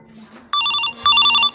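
A phone rings back while a call goes out to the village head, giving two bursts of bright electronic trilling tone close by, with a faint low hum underneath.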